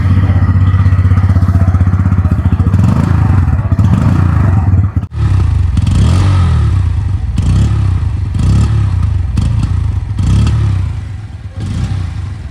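A 2026 Bajaj Pulsar N160 top model with a 160cc engine idles loud and close, a steady deep rumble broken by short rhythmic rev blips and one momentary dip, with no voices.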